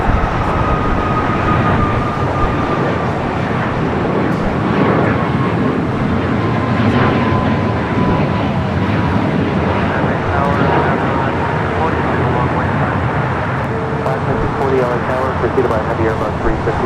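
A heavy airliner roars on arrival on the south side of LAX, a loud sustained broadband rumble with a slowly gliding whine, mixed under a commentator's talk for the whole stretch.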